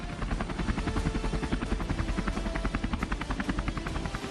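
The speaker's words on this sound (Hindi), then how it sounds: "रुद्र फॉर्मेशन में 2 ध्रुव हेलीकॉप्टर और 2 ALH रुद्र हेलीकॉप्टर्स ने हिस्सा लिया" Dhruv and ALH Rudra military helicopters fly in formation at a Republic Day parade, their loud, steady rotor chop throbbing continuously and close with no talk.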